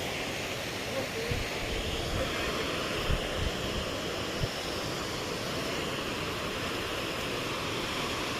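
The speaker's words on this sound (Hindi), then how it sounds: "देखो ये झरना का नज़ारा" A constant broad roar of rushing water from a waterfall at Mainpat, India, fills the scene, steady and enveloping, with a few faint low thumps beneath it.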